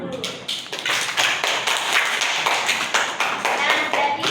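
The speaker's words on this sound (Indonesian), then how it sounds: "Tepuk tangan dulu." A classroom of students clapping their hands together, loud and close, with a fairly rhythmic pattern of claps and some voices mixed in.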